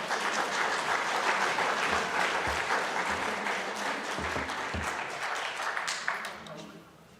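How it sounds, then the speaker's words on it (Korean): A lecture audience at a church fellowship gathering applauds warmly as the professor comes out, steady clapping that tapers off toward the end, with some talk underneath. "여러분 나오실 때 뜨거운 박수로 맞아주시기 바랍니다."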